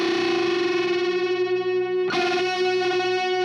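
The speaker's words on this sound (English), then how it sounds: "That's called the Unison bend. And you hear this friction going into the unison." Distorted electric guitar playing a unison bend: a thick, sustained note rings steadily, then a second string bends up into it, adding a fuller, grinding, wavering sound that continues to the end. It plays loud throughout with no talking.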